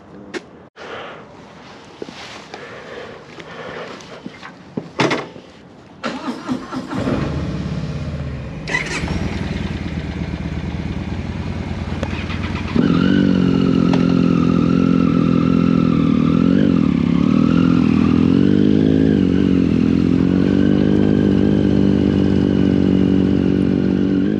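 Motorcycles in Colorado start with clatters and short revs, then one engine settles into a loud, close, sustained drone that climbs in pitch as the bikes ride off.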